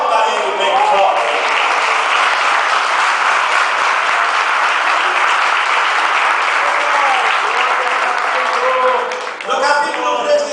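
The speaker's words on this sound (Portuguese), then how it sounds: "Aplauda ele bem forte." Loud, sustained applause from a church congregation at a consecration service, a dense wall of clapping that fills the whole stretch and dips briefly near the end, with voices mixed in.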